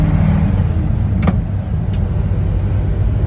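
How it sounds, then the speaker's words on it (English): Steady low engine rumble of a 1966 Ford F100 pickup truck cruising along, with road noise and a couple of faint clicks, no talking. "let you guys hear the engine on this drive back."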